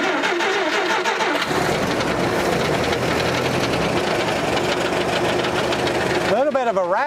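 A 1959 Willys CJ3B High Hood jeep engine cranks over after sitting 20 years, a loud, steady, rapid churning with a metallic rattle from the transmission area that ends in a brief whine.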